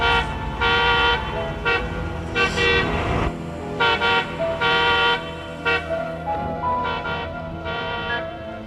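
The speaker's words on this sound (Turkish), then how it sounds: "Niye durmadan korna çalıyorsun?" A car horn honks over and over in loud, uneven blasts, some short and some held, over a steady engine rumble.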